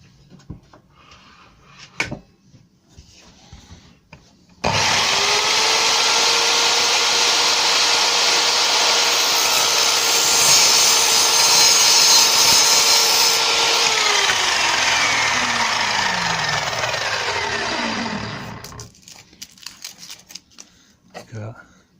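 An Evolution R210CMS mitre saw cutting through steel M10 coach bolts: the motor spins up abruptly into a loud, sustained high whine and grinding screech for about fourteen seconds, then winds down, with quiet handling noises before and after.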